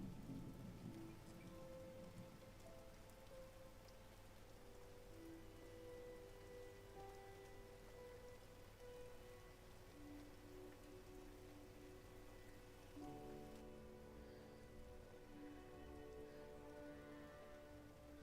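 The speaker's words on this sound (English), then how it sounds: "It's raining, I guess." Steady rain patters continuously over a low ambient hum, with sustained tonal layers shifting partway through, like a game's atmospheric soundtrack, in Silent Hill 2 Remake.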